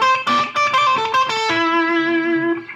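A six-string cigar box guitar played through a Blues Driver distortion pedal: a run of gritty, overdriven notes that ends on one long sustained note fading out, loud and close.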